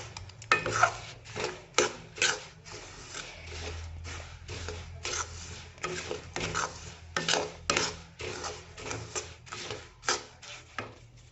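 A spatula scrapes and stirs ground peanuts in a pan for Assamese til laru, sesame ladoo: a close, steady run of short rhythmic scrapes and knocks, with no talking.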